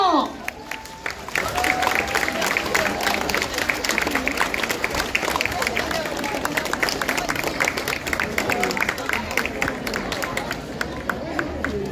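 Applause and scattered cheers rise from a crowd at a cosplay parade as a cosplayer is introduced, with steady clapping and busy crowd babble, after a brief moment of voices at the start.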